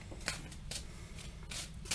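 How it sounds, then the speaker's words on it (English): Tarot cards are shuffled in a few quick, soft riffling bursts, close and quiet, with brief pauses between them. "so I'm shuffling a bit and then I'm fanning"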